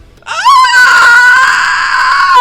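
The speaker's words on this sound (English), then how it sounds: "So it is going to scream." A creature in a tabletop fantasy game lets out a loud, sustained scream of surprise, rising sharply at the start and holding a shrill, wavering pitch for about two seconds with no talk over it.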